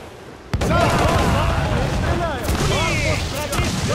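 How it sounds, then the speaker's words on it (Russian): Heavy ship cannon fire in the pirate game Assassin's Creed IV Black Flag: a sharp boom opens, followed by a rumbling barrage of shots and crew shouts, loud and close. "Стреляю!"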